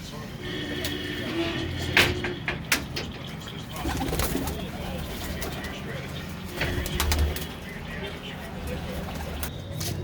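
Pigeons in a loft coo softly and intermittently under a voice, with clatter, knocks and a steady background rumble.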